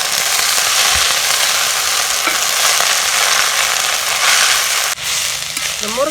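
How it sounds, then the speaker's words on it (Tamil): Drumstick leaves with onion and green chillies sizzling and frying in a pan, a steady, close crackle running throughout, briefly dipping near the end with a faint stir. "கீரையும் போட்டு நல்லா வதக்கிக்கலாம்."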